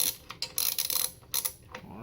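A ratcheting tap wrench cutting a thread during a supercharger install on a 1998 Mustang Cobra, giving quiet, irregular clicks and ratchet pawl snaps close to the microphone.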